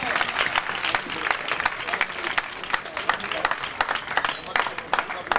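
A hall audience at a Pakistani jubilee gathering breaks into sustained clapping, dense and even throughout, with a voice faintly over it.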